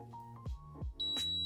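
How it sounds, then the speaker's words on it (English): A kitchen timer for a baking cake sounds a single sustained high-pitched electronic beep at the very end. It comes after a few low, brief tonal sounds and is clear and fairly close. "The timer's about to go off"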